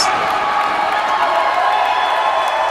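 A wrestling crowd cheers loudly for a wrestler, a sustained roar of voices and whoops filling the arena, with commentary running under it.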